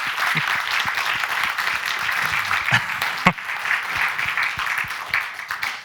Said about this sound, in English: give yourselves a round of applause for a fantastic story